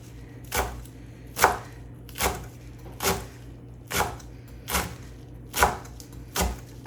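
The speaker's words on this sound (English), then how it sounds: "And then just give it a chop." A knife chops a tightly balled bundle of kale on a cutting board, nine crisp, evenly spaced thuds close by and alone against a quiet hum.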